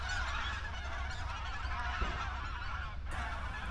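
A flock of migratory geese flies in honking along a Yellow Sea coastal trail between Gungpyeong and Jeongok harbours, a continuous dense chorus of calls over steady wind-like background noise, with no voices.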